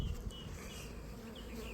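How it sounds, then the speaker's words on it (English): A honey bee buzzes steadily and fairly close while a swarm is being captured, with no talking. "there's a bee inside here with me"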